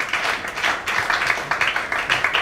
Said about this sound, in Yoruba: mo nílò pé kẹ́ pàtẹ́wọ́ fúnra yín